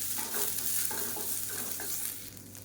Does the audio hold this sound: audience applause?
no